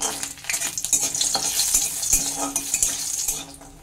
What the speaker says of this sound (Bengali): এর মধ্যে আমি 10টা বড়ি একটু ভেজে নিচ্ছি